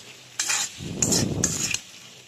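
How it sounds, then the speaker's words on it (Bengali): Vegetables and tomatoes being sautéed in a pan, a soft sizzle with a few scraping stirs and clinks of a spatula, close and fairly quiet, no voices. "ভালো করে কষিয়ে নিচ্ছি"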